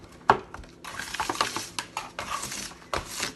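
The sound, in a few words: mixing homemade fake snow with conditioner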